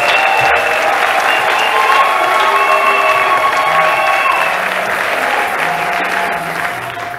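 A church congregation at a Christmas service claps and cheers for the Lord: sustained, dense applause from a large crowd that holds steady throughout and fades slightly at the end.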